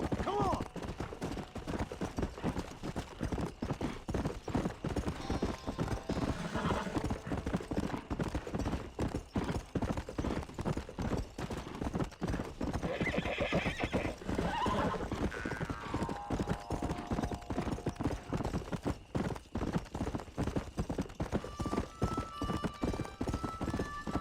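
A horse in the Red Dead Redemption video game gallops with rapid, steady clip-clop hoofbeats throughout, neighing loudly partway through, with faint game sounds and occasional talk in the background.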